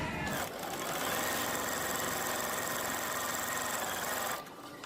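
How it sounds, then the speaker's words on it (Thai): Sewing machine stitching synthetic batting along a straight seam with a presser foot, a steady close mechanical whir running continuously for about four seconds before stopping abruptly near the end. "มาลองกันเลยค่ะ เย็บตามเส้นแถวแรกไปก่อนนะคะ"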